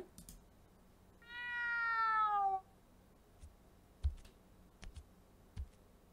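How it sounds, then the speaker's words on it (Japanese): A cat meows in the video game Tie Dye Kuruguru, one clear, drawn-out falling meow lasting over a second, followed by scattered soft clicks from the game in an otherwise quiet background. "猫のうなり声"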